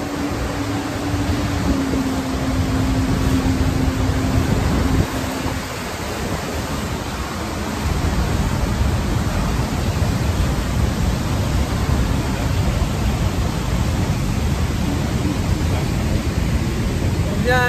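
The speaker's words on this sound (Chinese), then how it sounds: "我们现在冲向了莱茵瀑布。" A boat runs up close to the Rhine Falls waterfall, with a dense, loud, unbroken roar of falling water filling the air and a low engine drone audible at first.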